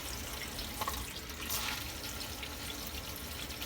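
Water sloshes inside a metal canteen as it is shaken during cleaning: a faint, brief watery rattle and splash over a quiet hissy background, with no voices.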